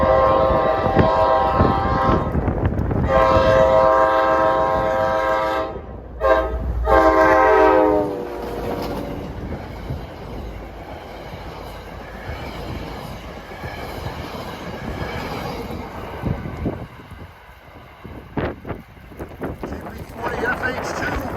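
Passenger train 71 bound for Port Jervis passes on a windy, cold day in New Jersey, sounding its horn in loud repeated blasts near the start, then rumbling and clattering past at close range amid wind noise.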